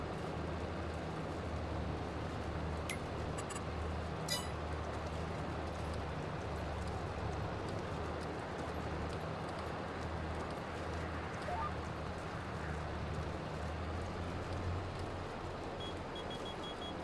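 Horse hooves clip-clopping at a walking stroll in the farming game Farming Simulator 22, a steady soft rhythmic plodding under a constant low engine-like drone, with a few brief sharp clicks.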